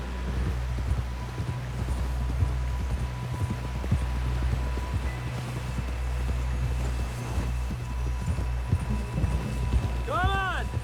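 Horse hooves gallop in Red Dead Redemption 2, a fast, rhythmic clip-clop pounding steadily over a low rumbling bed, with brief voices from characters near the end.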